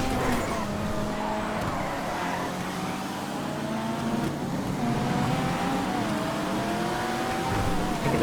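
Cars race through tight hairpin turns in the video game GTA FiveM, with steady loud engine drone, rising revs and tire squeal continuing throughout.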